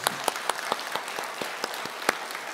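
Scattered, separate hand claps from a Sunday church congregation, a dozen or so sharp claps loosely spaced over a soft room hiss, fairly quiet and without voices.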